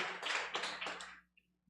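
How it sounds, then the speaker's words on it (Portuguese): Brief burst of applause from a church congregation during an evening worship service, a dense patter of many hands lasting about a second before fading into silence. "Você pode aplaudir ao Senhor"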